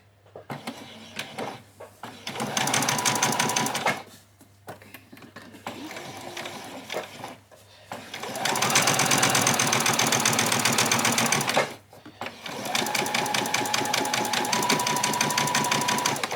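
A domestic sewing machine runs gathering stitches along an apron in several bursts, each a rapid mechanical whirring rattle lasting a few seconds, with short pauses between runs.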